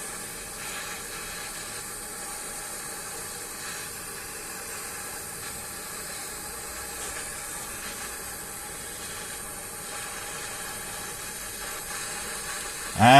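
A propane torch flame hissing steadily while heating brake parts, a constant close breathy roar at moderate level with a brief louder burst at the very end.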